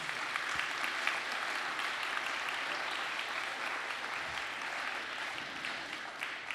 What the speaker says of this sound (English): a big round of applause and thanks for their hard work